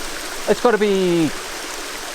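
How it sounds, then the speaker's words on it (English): Steady rushing water from a tall waterfall, 70 to 100 meters high, on the Caldeirão Verde levada in Madeira forms a constant hiss beneath a speaking voice. "70 to 100 meters high, that waterfall."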